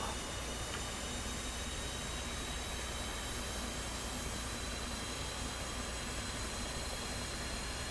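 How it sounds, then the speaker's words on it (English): F/A-18 jet engine cranking during start-up in a flight simulator aboard a supercarrier, a steady broadband whine and rumble that stays level throughout without voices. "Okay, so that's cranking the engine"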